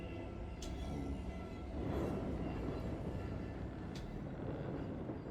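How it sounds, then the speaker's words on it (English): Steady rumble of a moving train in the horror game The Train (Post Trauma), a continuous low rolling drone with faint high rail squeals, heard alone with no talking. "I believe the train is now moving."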